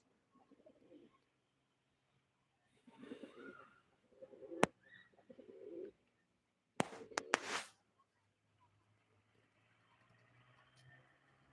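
Pigeons at a live pigeon auction give soft, intermittent coos and a few chirps in short bursts at moderate distance, with sharp clicks or clatters between them over a quiet room hum.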